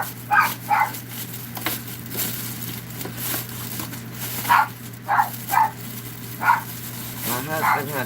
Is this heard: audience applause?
no